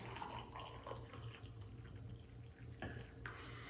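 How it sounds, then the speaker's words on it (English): Coffee from a French press trickles and splashes steadily into a cup, with faint clinks of glass and ceramic, quiet and close. "we are ready to pour our coffee"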